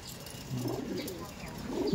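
Low, soft cooing from Kaldum-tailed pigeons in a loft in Madhyamgram, a steady murmur of overlapping coos with no talk over it.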